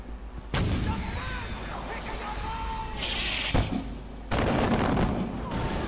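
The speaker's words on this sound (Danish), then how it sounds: "Som I sikkert kan høre, så er der meget høje eksplosioner." Heavy gunfire and loud explosions from the video game Far Cry 4 roar almost continuously, with sharp booming blasts cutting through a dense, sustained barrage.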